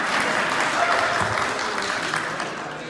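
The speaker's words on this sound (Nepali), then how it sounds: "उहाँलाई फेरि पनि ताली, कन्जुस नगरेर प्लिज" Audience applause at a live concert program in Lubbock, Texas, a dense, even wash of many hands clapping that holds steady and then eases slightly, with a voice faintly underneath.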